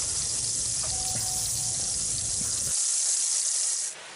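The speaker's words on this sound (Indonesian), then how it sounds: "jadi minyaknya sudah mendidih" Margarine and oil sizzling in a hot pan before frying egg rice, a loud, steady hiss of frying fat heard up close, with a low background rumble dropping away partway through.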